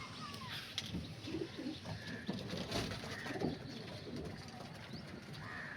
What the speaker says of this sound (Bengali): সব কালসিরা পায়রা বন্ধুরা